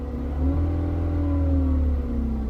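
Steady, even engine running of a 2013 Ford Fusion just after a mass airflow sensor replacement, a continuous low hum heard close and alone without talk.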